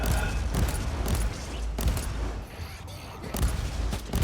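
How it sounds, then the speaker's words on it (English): A bolt gun fires in the Warhammer 40,000: Inquisitor video game, with dense bursts of rapid heavy gunfire and booming impacts over constant action noise, with a short lull in the middle. "I equipped, what is it, a bolt gun, I think?"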